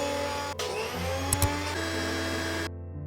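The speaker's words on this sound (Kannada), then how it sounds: "ಒಂದು ಮಿಕ್ಸಿ ಜಾರಿಗೆ ಹಾಕೊಂಡು ಕೋರ್ಸ್ ಪೌಡರ್ ಆಗಿ ಗ್ರೈಂಡ್ ಮಾಡ್ಕೊಳ್ಳಿ" A kitchen mixer grinder whirs loudly and steadily as it grinds digestive biscuits into a coarse powder. The motor drone runs for under three seconds and then cuts off abruptly.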